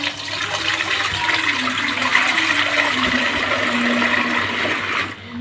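Buttermilk gushes in a steady, close pour from a leather butter-churning skin, splashing continuously for several seconds before tapering off.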